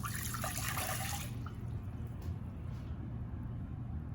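Water poured into a measuring container, a brief hissing splash lasting about a second, quiet and close, followed by faint drips over low background hum.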